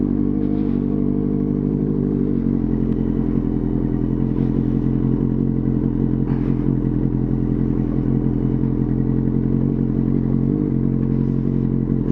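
A motorcycle ridden on a rough off-road backroad between Tagaytay and Batangas hums with a constant close engine drone, and faint bumps and rattles from the uneven ground run throughout.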